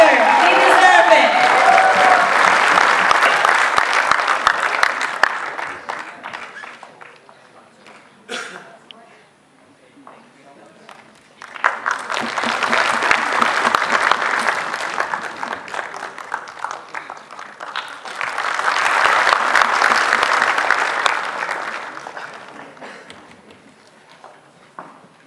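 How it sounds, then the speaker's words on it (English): An audience at a youth conclave, the Imphal Jamboree, breaks into applause and cheering in three separate loud swells of clapping, each fading away before the next, with a brief gap of near quiet between them. "another round of applause for our friends from Imphal. Please give them a huge cheer."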